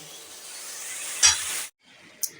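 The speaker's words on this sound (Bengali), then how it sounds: "এবার এটাকে ভালো করে আমি নাড়াচাড়া করে দেবো" Raw turnips with spices are stirred in a hot pan for a bharta, with a steady sizzle and a single spoon clink, then a brief pause and another light knock, close up without speech.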